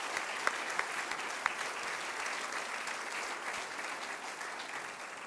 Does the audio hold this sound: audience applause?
yes